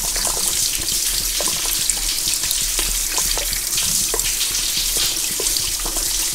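Coolant drains from a Honda 3.5L V6 radiator as a steady, continuous splashing pour of liquid, close and fairly loud, with a low hum underneath and small drips and splatters throughout.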